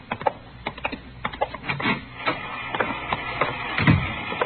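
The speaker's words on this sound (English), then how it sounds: "She's running all the cards on previous shooting through the IBM machine." IBM punch card machine running in an old radio crime drama, a busy mechanical clatter of rapid ticks and rubbing shuffles that continues steadily throughout at moderate loudness, with a heavier thump near the end.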